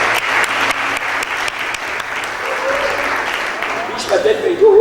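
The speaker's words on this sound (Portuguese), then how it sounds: "vamos dar uma salva de palmas para as mulheres" Church congregation applauding during an evening service, dense sustained clapping from many hands close by, with a voice speaking over it toward the end.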